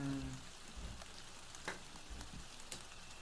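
Steady rain ambience playing as a background track during a D&D wargaming session, a soft continuous patter with a few louder drips and taps, faint and without talking.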